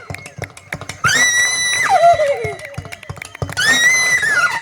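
Someone performs a horse neigh by voice as a mimicry showpiece: a loud, close, shrill whinny that sweeps down and trails off, then a second shorter whinny, with faint tapping noises between them.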